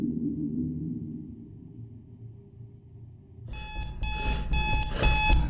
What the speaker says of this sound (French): C'est le monstre réveil.